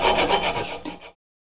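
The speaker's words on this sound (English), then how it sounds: "you can go ahead and cut along that with the saw" Hand saw rasping through wood while following a spiral layout line, a steady run of close, scratchy back-and-forth strokes for about a second before stopping.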